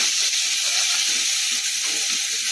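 Coarse onion and garlic paste hits hot oil in a pan of masala baingan, setting off a loud, continuous close-up sizzle that holds evenly throughout.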